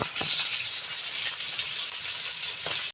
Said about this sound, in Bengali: শাক ভাজার জন্য আস্ত রসুন, পেঁয়াজ কুচি এবং কাঁচামরিচ ফালি করে ভেজে নিচ্ছি।